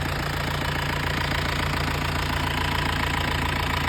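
A car engine idles steadily with a low, even rumble and a faint rhythmic knock throughout.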